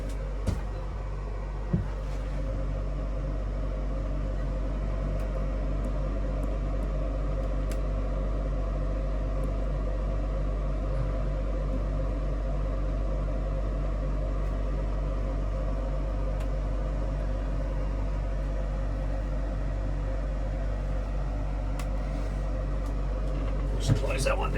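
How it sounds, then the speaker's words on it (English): A microwave oven and a rooftop air conditioner run together on an off-grid RV system with 1200 watts of solar and an Enerdrive 2600 watt inverter, making a steady low electrical hum and fan whir, with a few faint clicks and knocks. "let's run the microwave and the air conditioner at the same time"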